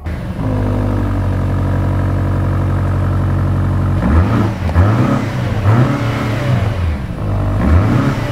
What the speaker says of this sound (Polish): brzmienie silnika, a w zasadzie brzmienie wydechu